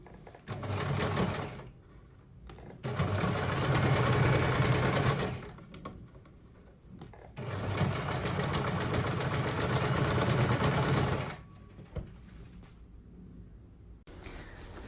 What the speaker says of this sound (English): that's where I'm going to stitch on these lines